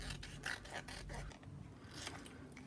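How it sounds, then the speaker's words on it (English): Scissors cut around a sewn fabric tag in a few faint, close snips and scraping strokes, with no talking. "So I'm now going to turn this over and cut around my tag."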